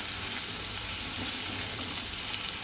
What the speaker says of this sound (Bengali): দেখো বন্ধুরা, আলু ভাজা প্রায় আমার হয়ে এসছে।